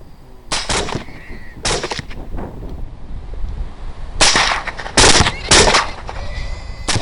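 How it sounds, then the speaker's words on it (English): Several sharp rifle shots crack out while hunting hogs in high winds in North Texas, two single reports followed by a quick cluster of three, with steady wind noise underneath. "As that shot sequence happened pretty quickly, let me run it in slow motion here"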